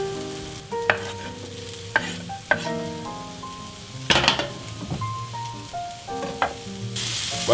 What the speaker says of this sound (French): Voilà, vous faites cuire la viande en même temps.